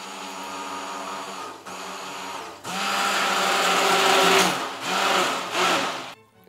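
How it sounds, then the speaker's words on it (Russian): A kitchen blender dissolving calcium in water whirs in short bursts, pausing briefly, then revving up louder and steadier with a few dips in speed before stopping. "Блендер. Полностью растворяем кальций в воде."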